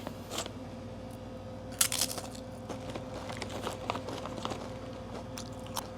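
Sour cream flavored kangkong chips crunch in a series of sharp, close bites and chews, irregular crackly snaps spread over a quiet background.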